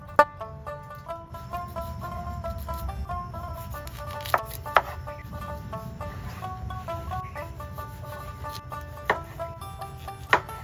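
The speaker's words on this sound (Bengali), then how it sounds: "তারপর একটা চাকু দিয়ে ডালটাকে কেটে নেব।" A knife cuts through cauliflower stalks, giving a few sharp, separate chopping knocks spaced across the clip over steady background music.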